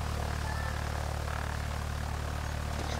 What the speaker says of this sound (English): we just in this airplane.